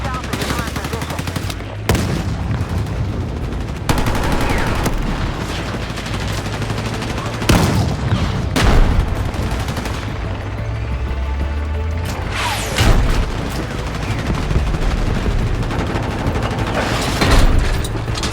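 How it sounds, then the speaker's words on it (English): Tank cannon shells firing in the Battlefield video game, with repeated loud booming blasts and crashing impacts spread across a busy battle soundscape, other gunfire rattling between the heavy shots. "I fire my shell as soon as they start moving to the right, to perfectly time the shot."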